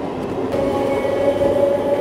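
A Bhubaneswar MEMU local passenger train rumbles steadily nearby at Nilgiri Road station in Odisha, with a low continuous roar and a sustained tonal whine rising after a brief click.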